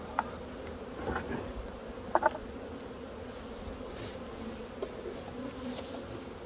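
Honey bees around a full beehive super at a sheep farm yard, a faint steady buzz of insects with a couple of brief louder flybys close to the listener.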